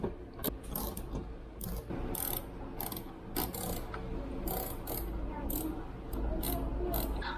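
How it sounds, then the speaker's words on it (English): Repeated ratchet clicks sound while a socket wrench loosens bumper bolts on a GR Corolla, with rapid bursts of ratcheting, brief pauses between them and a steady low background hum, all up close. "let's start taking those bolts off"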